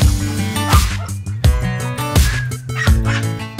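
A dog at a dog hostel in Latur barks loudly and close by in a rhythmic run of four or five sharp, yipping barks with brief pauses between.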